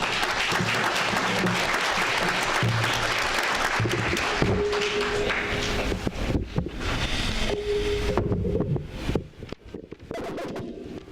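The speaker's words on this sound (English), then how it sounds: "give him a round of applause" An audience at a public education forum in Solano County applauds: dense clapping fills most of the stretch, thinning into scattered claps and rustle near the end.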